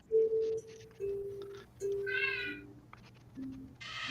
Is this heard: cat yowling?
yes